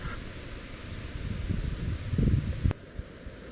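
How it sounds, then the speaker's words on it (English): Wind blowing across a lake during a kayak fishing trip, a steady rushing buffet of microphone wind noise that swells and gusts loudly near the end, with a brief sharp knock just before it drops back. "Well, I wanted wind, and I've got wind."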